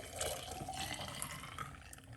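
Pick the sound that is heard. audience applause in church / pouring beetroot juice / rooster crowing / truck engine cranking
pouring beetroot juice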